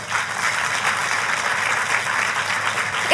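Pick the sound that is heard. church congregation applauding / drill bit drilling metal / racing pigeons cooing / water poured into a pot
church congregation applauding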